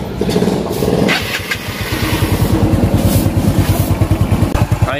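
A Yamaha Mio Sporty scooter, reassembled after repair for noise and hard starting, cranks and catches. Its engine settles into a close, rapid, even idle thrum, with a brief voice at the start.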